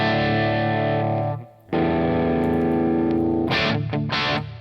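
Distorted electric guitar run through a free VST simulation of a Marshall JCM 800 amp with blended cabinet impulse responses, 80s rock tone: loud sustained chords, a brief break, then more chords and choppy palm-muted stabs, with no talking.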